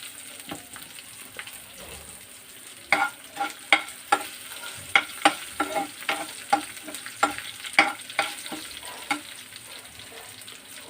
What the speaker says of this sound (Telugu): పోపు బాగా వేగిన తర్వాత కాస్త ఇంగువ వేసుకుందాం